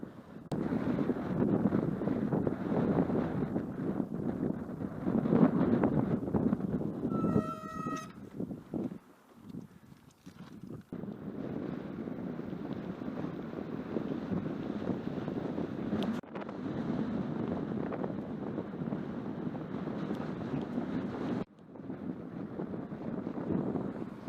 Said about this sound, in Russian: Тут такой ветрище встречный.